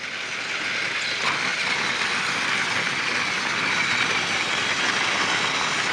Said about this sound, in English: I better get over here for another train transfer.